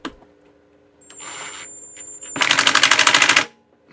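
Power driver fitted with a 17 bit drives bolts, a loud close rapid burst of impact hammering lasting about a second, preceded by a quieter whirring run.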